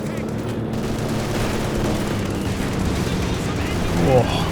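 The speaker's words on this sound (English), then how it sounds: "Oh, big explosion." Heavy artillery barrage and explosion in the World War II strategy game Company of Heroes 2, a dense continuous rumble of shelling with a sharper blast swelling near the end.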